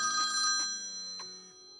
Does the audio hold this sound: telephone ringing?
yes